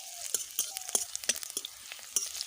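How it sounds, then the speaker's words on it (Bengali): Chopped onions, whole cumin and slit green chillies sizzle and crackle in hot white oil, soft close spattering with irregular pops and no voices. "দিয়ে দেব গোটা জিরে চেরা কাঁচা লঙ্কা আর কুচানো পেঁয়াজ লালচে করে ভেজে নিতে হবে"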